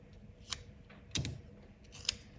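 A few sharp snipping clicks of scissors cutting paper into a heart-shaped checklist, three brief cuts spaced apart, close and fairly quiet.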